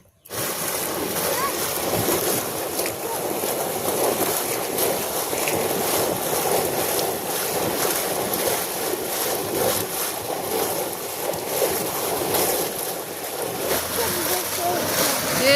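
Water runs steadily into a tank in a village setting, a continuous broadband rushing and splashing that stays loud and even for the whole stretch, with faint wind-like noise around it.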